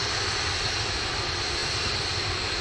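Atlas V rocket with its RD-180 engine roaring during launch, a loud, dense, continuous rumbling roar with no breaks, alone and without talk.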